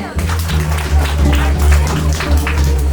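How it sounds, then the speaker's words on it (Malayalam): A crowd at a Christian madhuram veppu wedding function applauds the groom, with steady close clapping throughout and voices talking over it. "ഒരു കയ്യടി കൊടുത്തേ."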